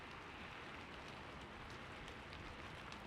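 Steady rain falls in a continuous, even hiss with no breaks, soft and moderately distant, with no voices over it.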